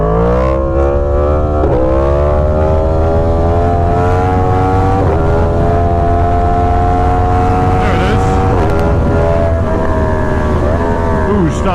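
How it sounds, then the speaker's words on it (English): A Yamaha FZ10/MT10 motorcycle accelerating hard with traction control off, engine roaring loud and continuous as it climbs through several gear shifts, each upshift marked by a brief dip in pitch before rising again. "Let's just throw a wheelie from 25,"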